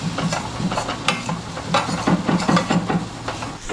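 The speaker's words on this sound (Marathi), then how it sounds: "शेवय घाल सोडता आणि मिक्स करता." Shevai vermicelli is stirred in a pan over a steady sizzle, with a spoon scraping and clinking against the metal in quick, uneven strokes that come close and clear.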